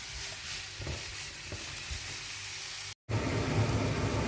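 Vegetable noodles with salt are stirred and tossed in a hot pan, a continuous sizzle with scraping stir strokes that breaks off briefly and then comes back louder.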